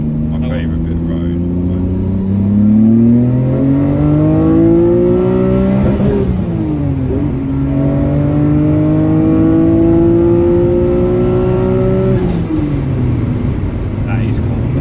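A Nissan Skyline R32 GTR on the road, its engine climbing through the revs in long rising pulls with brief dips at gear changes, loud and close from inside the car.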